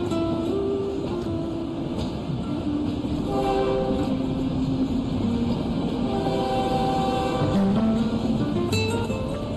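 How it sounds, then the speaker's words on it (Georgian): A train passes by, its steady rumble and clatter filling the scene, with horn-like tonal notes sounding at intervals over the continuous noise, close and loud throughout. "Tren kaçıyor."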